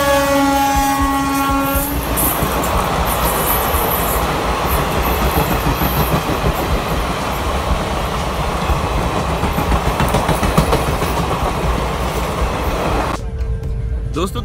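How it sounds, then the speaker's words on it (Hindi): An express train runs on rail tracks in a loud, steady rumble with rhythmic clatter throughout, a tonal horn-like hum at the start, and a brief change near the end. "तो मैं अभी बैठ गया हूँ ट्रेन में"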